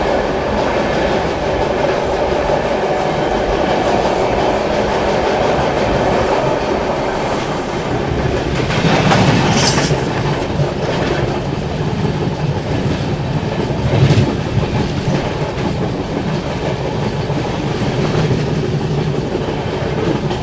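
A Garib Rath express train runs at high speed, about 130 km/h, on the line near Tundla junction, with a steady loud roar, rumble and clatter of wheels throughout and brief louder rushes where another train is overtaken.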